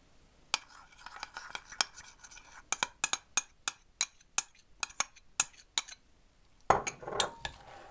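Metal utensils clink steadily against a bowl while avocado salad is tossed with its dressing, about a dozen sharp close taps in a regular rhythm, then a rustling scrape at the end.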